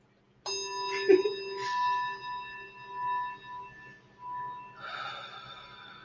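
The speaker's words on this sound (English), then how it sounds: "I'm gonna ring a bell, clear some energy." Single bell struck once, giving a bright clear tone with steady harmonic overtones that rings on and slowly decays over several seconds, with soft breathing sounds heard near the start and end.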